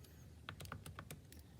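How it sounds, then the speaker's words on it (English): Quick run of soft keystrokes on a computer keyboard while entering a logarithm problem, about eight irregular taps close by over a low room hum, with no talking. "Do I want to type it in first? I'll go ahead and type it in first."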